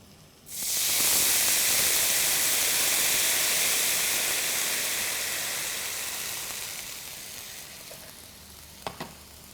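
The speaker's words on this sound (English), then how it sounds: "This is called deglazing." Red wine hits a hot pan used to sear a cheek and erupts into a loud, steady sizzling hiss that slowly fades over several seconds, ending with a couple of small clinks.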